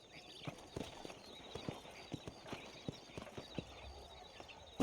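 Hooves clip-clop at a steady walking pace in a Western open-world game, soft and close, with a faint snort before a loud thump at the end.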